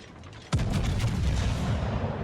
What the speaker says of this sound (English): I take a few shots at that North Carolina with HE.